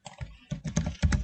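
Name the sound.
typing on a computer keyboard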